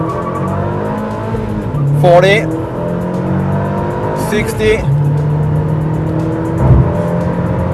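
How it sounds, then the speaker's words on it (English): A Dodge Caliber SRT-4 launches hard from a standstill, tires squealing in short bursts as the engine revs climb through the gears, with someone talking over the run. "A lot of tire squeaking."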